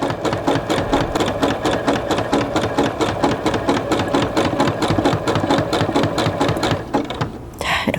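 A sewing machine runs steadily, stitching cotton piping cord into a rope basket with a fast, even needle rhythm, close and loud, slowing and stopping near the end.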